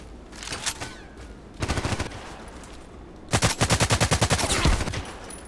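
Automatic gunfire from the video game Contract Wars comes in three bursts, a short one, then a second, then a longer rapid string of evenly spaced shots, loud and close with no talk.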